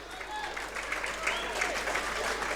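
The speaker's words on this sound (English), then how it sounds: "And Edgar getting a round of applause, well deserved round of applause." Crowd at a Scottish league football match between Stranraer and Elgin City applauding a tired player, a steady wash of clapping that runs evenly throughout at moderate distance, with no talk over it.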